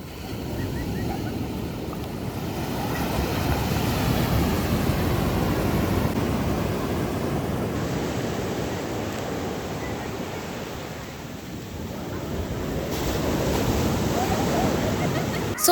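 Sea waves wash continuously onto a beach in a steady roar, with wind buffeting the microphone.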